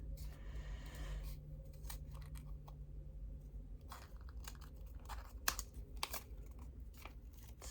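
Scissors trim craft material up close in a quiet room, a series of sharp irregular snips and crunchy cuts, with a faint low hum beneath.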